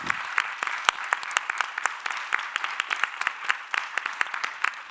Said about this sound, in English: I just wanted one more round of applause for this incredible panel